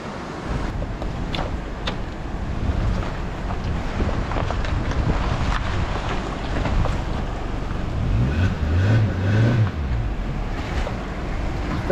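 A boat moves on the water at Dream Island in Rorathang during the monsoon, its low churn mostly buried under steady gusting wind noise, with a brief low motor-like drone near the end; no talk.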